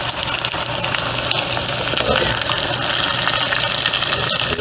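Hot oil for Chinese chili oil sizzles and crackles steadily as it is poured into a container, a dense hissing spatter with occasional sharp pops, close and continuous.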